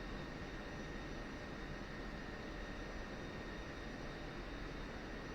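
A jet aircraft taxiing in the DCS flight simulator gives a constant, even engine roar with a steady whine, unchanging and alone, with no talking.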